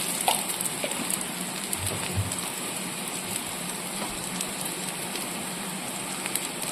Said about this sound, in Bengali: আলু পেঁয়াজ একসঙ্গে ভেজে নিচ্ছি।